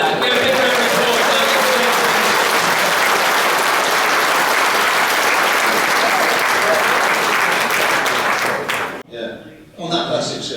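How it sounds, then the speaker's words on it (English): Loud, dense applause from a large crowd at a motorcycle museum's 30th anniversary celebration, honouring rider Mick Grant and the Slippery Sam bike, sustained for about nine seconds before cutting off abruptly, followed by a moment of muffled sound. "Give a big round of applause."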